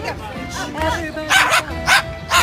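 A pet dog barks in short sharp yips and bow-wows, three quick bursts close by near the end, with a person talking over it at home.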